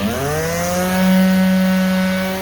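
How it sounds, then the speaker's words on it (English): An orbital sander with 80 or 100 grit works across a spalted live edge wood mantel, giving a steady, close, fairly loud motor whine with a droning tone that holds throughout. "this is either 80 or 100 grit orbital sander"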